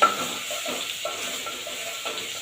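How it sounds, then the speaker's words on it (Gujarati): Soft, steady crackling and sizzling of spices tempering in hot oil, fairly quiet, with faint intermittent popping. "તેલમાં જરા કાકરા સાંભળીએ"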